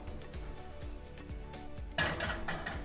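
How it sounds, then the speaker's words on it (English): Metal pans and tins clank and rattle in a rhythmic series of low knocks, ending in a brighter metallic scrape and clatter as a baking pan for Yorkshire puddings slides into the oven. "You put your pan in the oven"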